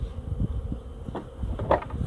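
A few honey bees buzz around a hive box during a swarm hive checkup, a close, fluctuating buzz with brief swells as individual bees pass near, alone without talk.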